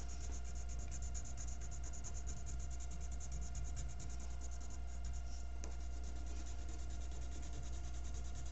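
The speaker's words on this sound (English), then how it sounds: "I'm going to go ahead and use my crayon instead." Crayon coloring on paper, a steady soft waxy rubbing that runs without break under a constant low hum, close and quiet.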